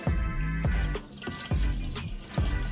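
Water runs and drips over sea moss during a quick rinse, with splashy pulses recurring roughly every half second, close and fairly steady.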